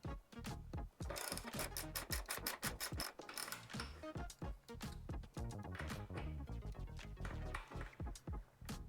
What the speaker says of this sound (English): First we'll start taking the bolt on the side off with a 10mm socket.